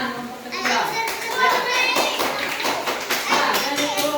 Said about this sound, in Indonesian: Tepuk tangan untuk Setia.